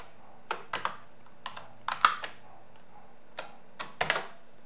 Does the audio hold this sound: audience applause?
no